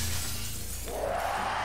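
Glass windows shatter in the horror video game Underhell, a sudden bright crash about halfway through that leaves a ringing, scattering tail over a low game-ambience rumble.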